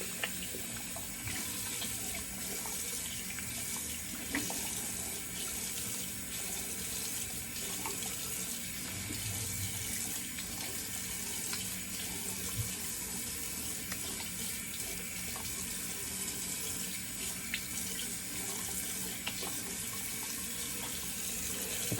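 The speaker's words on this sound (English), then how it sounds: "cold water rinse" A bathroom tap runs steadily for a cold water rinse during a wet shave, a constant close splashing hiss that continues unbroken and alone.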